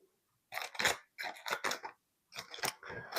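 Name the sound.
scissors cutting a foil shrimp packet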